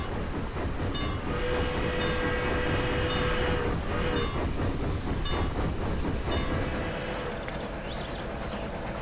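A model Southern Pacific diesel locomotive's sound decoder plays a steady engine rumble with clickety-clack rail noise and sustained horn blasts, fairly faint and continuous throughout.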